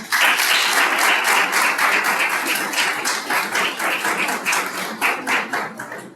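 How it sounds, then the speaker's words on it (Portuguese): An audience at a legal and religious-liberty conference in Sergipe claps together, loud and close, a dense rhythmic patter that holds steady and then begins to thin toward the end. "As nossas palmas."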